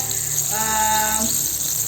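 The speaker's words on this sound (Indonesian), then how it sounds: "jadi ini saya gorengnya seperti ini" Crispy spicy chicken frying in a small amount of hot oil, a close continuous sizzle and crackle with a faint tonal ring partway through, no talk.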